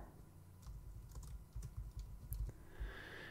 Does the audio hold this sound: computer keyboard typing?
yes